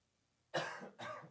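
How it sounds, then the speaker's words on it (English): Two quick coughs, one right after the other, nearby and fairly faint, with a moment of quiet before them. "someone in our live studio audience is Somebody- coughing."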